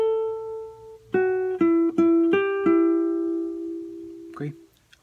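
Charango picks the second melodic fragment of a song: a held opening note, then a handful of quick bright plucks, the last one sustained and fading, close and clean, with a faint brief sound near the end.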